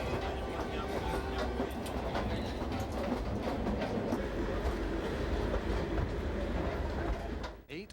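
A passenger train runs on rails in Kenya near the shores of Lake Victoria, with a continuous rumble and rhythmic clatter of wheels, loud and close, fading out at the end.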